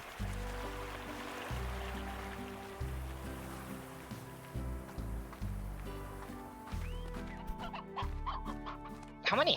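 Painted hens in the video game Slime Rancher cluck repeatedly in short rhythmic bursts over a steady ocean-wave ambience, fairly close and clear throughout.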